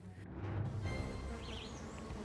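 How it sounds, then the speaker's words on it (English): Honey bees buzz steadily over hive frames where they are building fresh comb, a dense, continuous droning hum close by with no talk. "Let's look at some bees making some beautiful new comb"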